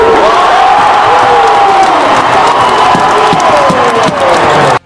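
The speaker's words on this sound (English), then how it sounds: "listen to the crowd after Kevin Ware's shot" A basketball arena crowd roars after a three-point shot in a state rivalry game, a loud swelling mass of cheering and shouting that holds for several seconds and then cuts off abruptly.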